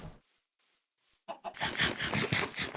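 Minecraft chickens clucking at spawn, a few brief clucks after a quiet start and then a dense run of busy clucking calls, fairly close, with no talking.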